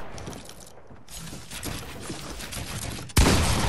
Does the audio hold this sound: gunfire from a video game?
yes